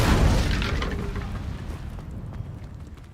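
A fire spell explodes in the video game Hogwarts Legacy: a heavy, loud boom with crackling burst at the start that rumbles and fades away over about three seconds.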